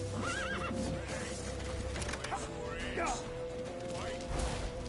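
A horse in The Witcher video game whinnies loudly several times while hooves clip-clop, with game effects and faint voices underneath.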